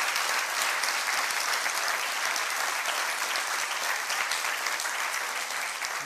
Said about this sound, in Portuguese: Você pode aplaudir ao Senhor com alegria por esse amor?